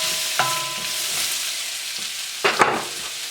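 Onions and peppers sizzle steadily in a pan for Beijing beef, a bright continuous hiss with a couple of sharper bursts as the food is moved, close by and with no voices.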